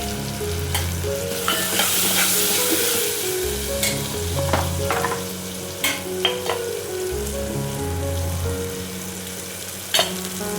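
Dal tempering sizzling in hot oil in a pan after asafoetida, turmeric and softened tomato go in, a steady close frying hiss broken by spoon scrapes and clinks against the pan.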